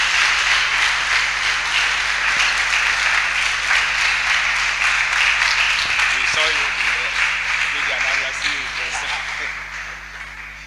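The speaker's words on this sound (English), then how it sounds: "With a loud round of applause, let's welcome" Loud, sustained applause from a business conference audience welcoming a speaker, steady for about eight seconds before tapering off, with some voices mixed in.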